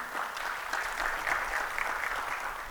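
A conference audience at a Microsoft Teams and SharePoint developer session gives a round of steady clapping at moderate volume, with no voices over it.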